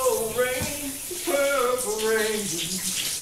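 Shower water runs in a steady hiss while a voice sings or hums melodic lines over it, close and continuous.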